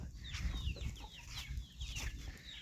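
Chickens out by a rice field cluck repeatedly in short, close, busy bursts, with faint bird chirps over a low rumbling background.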